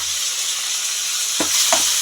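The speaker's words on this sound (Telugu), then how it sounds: "అన్నీ వేసి తాలింపులో చక్కగా మగనివ్వాలండి" Chopped tomato and a large onion fry in hot tempering oil with curry leaves, a steady bright sizzle throughout, with two brief scraping stirs of a spoon near the end.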